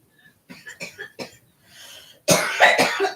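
A person coughs in a short series of dry, close bursts, then breaks into a harsher, louder fit of coughing.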